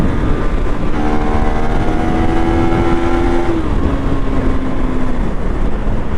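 KTM 390 Duke single-cylinder motorcycle engine revved near 5000 rpm for a launch, a loud continuous drone whose pitch holds steady and then drops in two steps, close and with no talking.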